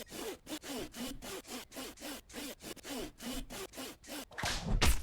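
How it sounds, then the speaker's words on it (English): A saw cuts through wood in a horror video game, producing about a dozen evenly spaced rasping back-and-forth strokes, close and clear with no talking, ending in a louder scraping burst. "Also, weirdly, sounds like sawing"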